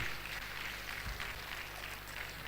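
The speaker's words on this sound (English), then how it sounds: "That clap wasn't loud enough. Please, let's shake the roof." Faint, distant clapping from an audience at a university valedictory programme, a steady wash of hands rising and falling in waves with no talk over it.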